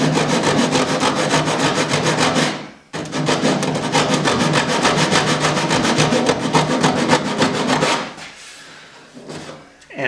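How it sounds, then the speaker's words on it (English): A sanding block rubs rapidly back and forth across a plywood corner, a loud, close, rhythmic rasping with a brief pause near the start and a tapering off near the end. "taking a sanding block and squaring off that bottom corner"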